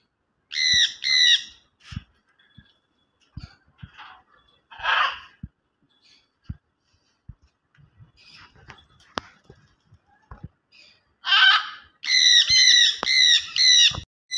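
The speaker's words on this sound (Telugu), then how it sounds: "ఆ బర్డ్స్ సౌండ్ చేస్తుంటే ఎంత హ్యాపీగా అనిపిస్తుందో కదా." Birds in a park give loud, repeated squawking calls in short bursts at the start and end, separated by quieter gaps with sharp clicks and a few softer chirps. The calls are close by.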